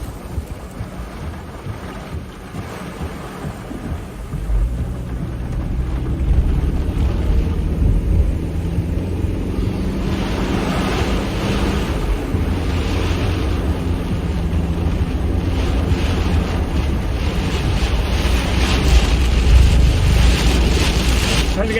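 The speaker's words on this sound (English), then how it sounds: "Big wind. Inflow." Strong storm inflow wind buffets the microphone during a tornado chase in southern Mississippi and Alabama, a continuous heavy low roar with gusty surges that build and hold throughout.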